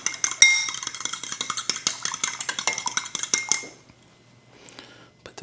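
Eggs being scrambled in a hot skillet for a bacon and egg crepe filling: a steady run of quick utensil scrapes and clinks against the pan for about three and a half seconds, then near quiet with a few faint taps.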